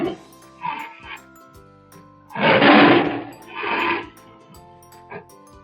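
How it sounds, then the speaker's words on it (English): A tiger roars in a loud, rough burst, followed by a shorter second roar and a small trailing grunt, with sparse background tones in between. "Tiger."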